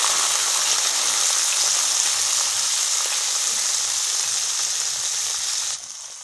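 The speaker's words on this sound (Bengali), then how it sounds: "এবার মৌরি লাল হয়ে আসলে এতে মটরশুঁটি দিয়ে দিই।" Green peas sizzle loudly with fennel seeds in hot oil in a pan, a constant close frying hiss that eases slightly at the end.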